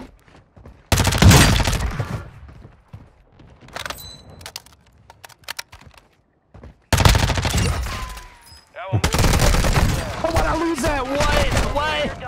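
Gunfire from Warzone 2 cracks in rapid fusillades, with short loud automatic bursts separated by quieter pauses and scattered single shots, mixed with in-game effects.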